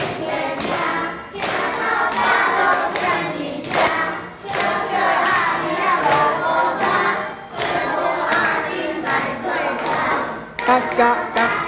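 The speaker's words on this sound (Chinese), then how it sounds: "好，替自己鼓掌，很棒。" Children and parents clap together in a primary school parent-child mother-tongue class, a loud, uneven burst of applause that swells and breaks off several times over about twelve seconds, with light chatter mixed in.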